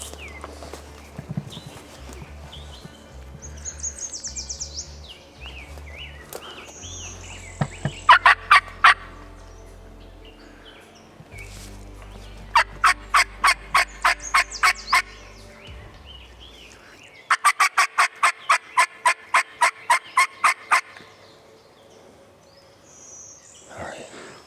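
Wild turkey sounds on public land during a hunt, with several sharp rapid bursts of repeated clucking or yelping notes in separate runs, loud and close, alongside softer warbling calls.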